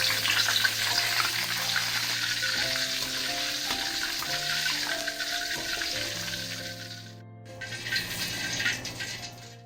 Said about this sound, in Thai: ใบมะกรูดนะคะลงไปทอดค่ะ